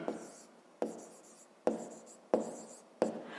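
A pen scratches across paper while a 5th-grade maths exercise is worked out, making five short, crisp strokes at roughly even intervals. Each stroke fades quickly, heard close up with no talking.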